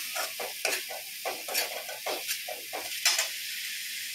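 Onion, ginger and poppy-seed masala for a prawn curry frying in a pan: a bright hiss and crackle with rhythmic stirring scrapes about every half second, close and continuous, no voices.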